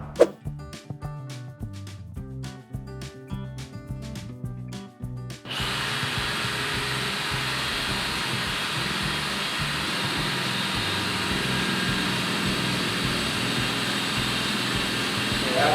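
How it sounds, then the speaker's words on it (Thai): A Pumpkin cordless impact drill drives an 8 mm hex-head self-drilling screw into steel, starting with a few sharp clicks and taps, then a steady loud whirring and grinding that keeps going to the end, with no speech over it. "ลำดับต่อไปจะเป็นการเทสนะครับยิงเหล็กโดยใช้สกูปลายสว่าน"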